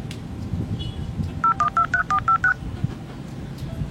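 A phone keypad sounds eight short dialing tones in a steady, quick sequence, clear and close above a low background hum.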